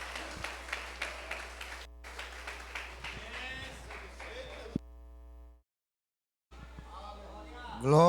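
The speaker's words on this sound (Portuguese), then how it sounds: "Que as palmas glorifiquem a Deus." A church congregation at a Communion service applauding in a steady, dense wash of clapping. It stops abruptly into a brief silence before resuming. A voice speaks over parts of it.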